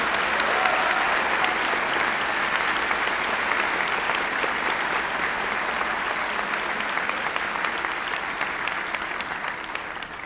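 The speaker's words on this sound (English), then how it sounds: "I think these people deserve a thundering ovation." Audience applause at a University of Michigan economics undergraduate commencement, a sustained dense roar of many hands clapping, loud and steady and slowly easing toward the end.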